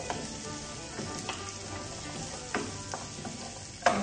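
Okra sautéing in olive oil sizzles steadily in a pan, with a few soft stirring clicks and a sharper knock near the end, no voices.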